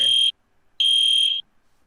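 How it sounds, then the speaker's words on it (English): A fire alarm sounds in two loud, shrill electronic beeps separated by a short silence, each cutting off sharply. "I believe that's a fire alarm."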